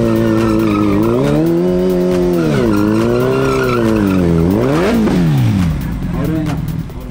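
A Suzuki GSX-1300R Hayabusa and a Suzuki GSX-R1000 race side by side in a drag event. Their engines howl loudly at high revs, with pitch swooping up and down through gear changes and then fading slightly at the close.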